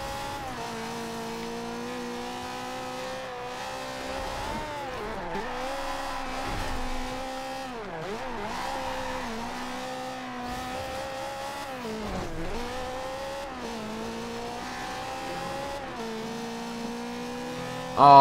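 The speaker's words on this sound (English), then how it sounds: "Off-roading in a Ferrari." A Ferrari engine in Forza Horizon 2 revs and shifts through gears continuously while driving off-road, pitch rising and dipping as it accelerates, with occasional tire noise and no talking.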